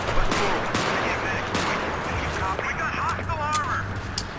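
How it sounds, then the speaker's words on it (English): Gunfire from the shotgun in the video game BFHD Pro 2, several sharp blasts spaced about a second apart over a busy background of game noise and other shots. "There we have the example of the deadly shotgun."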